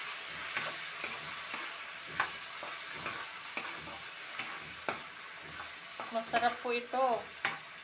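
Fava beans frying with onions in a pan, a soft steady sizzle broken by scraping stirs at regular intervals, while someone speaks briefly near the end.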